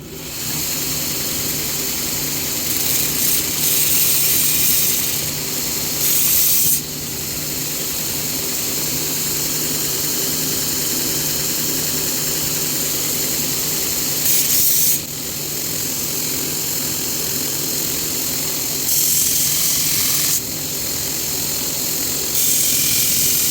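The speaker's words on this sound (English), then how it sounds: "So what I like to do is very gently grind this just slightly" Steady, loud hiss of a grinder running continuously on the head of a Sager Warren axe, with the pitch and texture shifting briefly several times as the contact changes.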